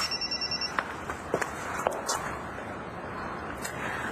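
A telephone rings in an office-like indoor scene with a short run of rapid electronic trills, then stops, leaving quiet room noise, faint shuffling and a few soft knocks.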